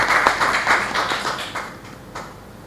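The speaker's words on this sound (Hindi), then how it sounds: "उनके लिए ताली बजा दीजिए" Audience clapping for producer Ravi Brijwasi, a scattered run of hand claps that is moderately loud and fades out toward the end.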